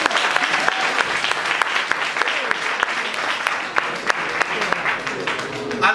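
An audience applauds at a graduation ceremony, a dense sustained roar of many hands clapping with sharper individual claps standing out close by.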